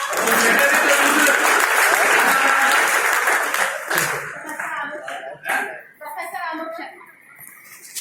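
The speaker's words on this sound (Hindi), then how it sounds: "भगवान कृष्ण जी के लिए ताली बजाओ आप।" A dense burst of applause from an academic seminar audience at a law centre fills the first half, then thins out and gives way to voices and scattered sounds.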